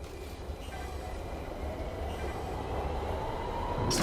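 Train rumbling along in the PSVR2 virtual reality game Of Lies and Rain, a steady loud low roar of wheels and carriage that builds slightly in intensity over a few seconds, with no talking.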